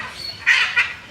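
A bird calls at the Surat zoo aviary with two short, harsh squawks in quick succession, moderately close, over a faint ambient background.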